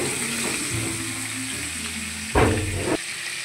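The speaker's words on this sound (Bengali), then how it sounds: "এর মধ্যে এই ম্যারিনেট করা মাংসগুলো এই যে একটু ছিটকাবে, সাবধানে একটা একটা করে ভেজে নেব" Marinated meat pieces for biryani frying in hot oil, a constant close sizzle with low bubbling and a louder burst of spattering about two-thirds through.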